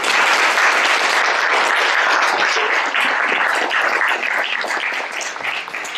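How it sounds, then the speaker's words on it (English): A crowd claps enthusiastically after a poetry reading by Frank Bidart at Wellesley College, dense sustained applause filling the room at a steady level before tapering slightly at the end. "Let's have another round of applause for"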